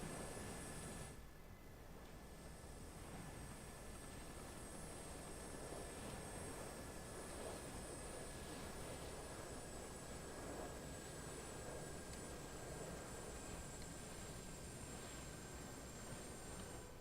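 An Airbus H125 helicopter engine runs continuously in Microsoft Flight Simulator 2024, a steady broadband turbine roar with a thin high whine, constant and loud throughout with no talk.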